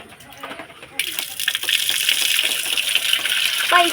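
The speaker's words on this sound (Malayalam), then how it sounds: "ഇവിടെ വെള്ളം നിറക്കാം." Tap water gushes into a stone tank at a washing slab, starting abruptly after a moment of near quiet and then running in a steady loud rush, with a voice speaking at the start.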